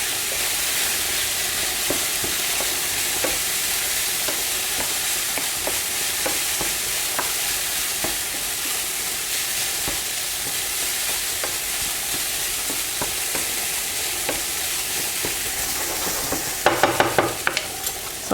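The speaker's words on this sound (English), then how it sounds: "typically in bolognese it's ground beef like this. So you see on the bottom it starts to brown," Ground beef browning in a pan for a bolognese-style dish gives a loud, constant close sizzle with faint crackles, and a few sharp utensil knocks come near the end.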